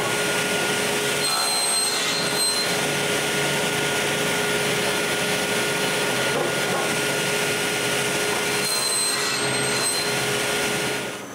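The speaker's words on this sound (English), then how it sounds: "I begin by cutting the tenon's shoulder." A power saw cuts the shoulder of a wooden tenon for a propane tank pickup rack, a steady, loud, close whining buzz that runs continuously for about eleven seconds.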